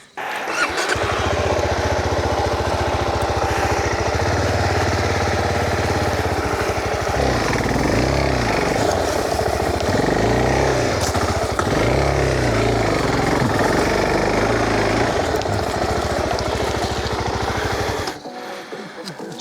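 Struggling motorbike engine on a rough bush track, loud and close, its revs rising and falling in labored surges over nearly twenty seconds before cutting out near the end.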